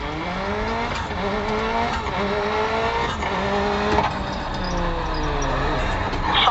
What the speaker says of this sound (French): Attention freinage.